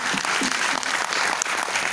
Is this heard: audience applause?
yes